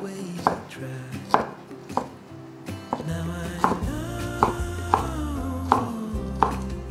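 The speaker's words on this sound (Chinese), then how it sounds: "把凤梨切成细条状" Knife slicing a Taiwanese pineapple into thin strips on a board, with regular crisp cuts about every half second over a low steady kitchen hum.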